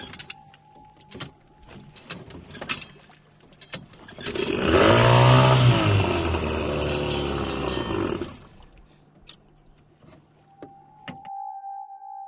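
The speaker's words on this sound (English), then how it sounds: "a long canoe with a big outboard motor whizzes past us in the distance" A long canoe with a big outboard motor on the Rio Negro roars up and passes in the distance, a loud buzzing drone that swells for a few seconds and then fades.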